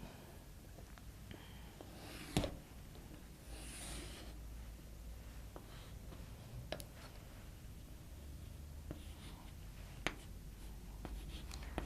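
A pencil scratches a straight ray across paper in a quiet room, faint and close, with a few small taps and ticks scattered through the stretch.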